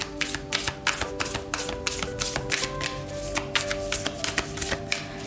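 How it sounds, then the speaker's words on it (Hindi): Oracle cards are shuffled by hand in a steady run of crisp riffling slaps and soft flutters, close and clear, with a faint tonal hum underneath. "तो शफल कर लेते हैं कार्ड्स को ऑप्शन 1 के लिए"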